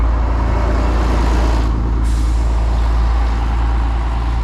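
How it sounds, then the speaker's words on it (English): A large sightseeing bus pulls in close by on a street in Albufeira, Portugal, with a loud, steady low engine rumble and a sharp hiss of air brakes partway through, and no voices over it. "Oh, it's a sightseeing bus coming."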